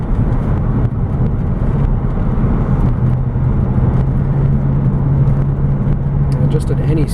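A 1999 Mercedes-Benz CLK430 AMG engine hums steadily while driving under acceleration, a loud continuous drone with road rumble and a sustained low tone, with someone talking over it.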